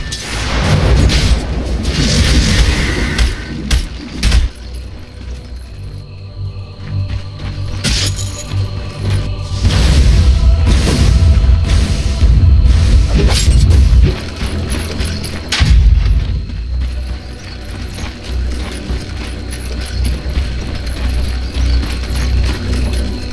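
Dota battle at the Dire's middle tower: repeated booming impacts, shattering crashes and gunfire-like bursts pile up in loud waves, with quieter gaps between clashes.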